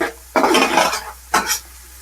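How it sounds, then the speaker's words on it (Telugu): Chopped onions hit a hot pan for Arabian chicken kabsa biryani and fry in two loud bursts of crackling sizzle, each followed by stirring, with no talk. "మనం కట్ చేసి ఉంచుకున్న ఆనియన్స్ వేసేసుకొని వేపేసుకుందాం"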